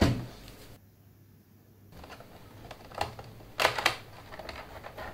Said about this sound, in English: We need to remove this casing.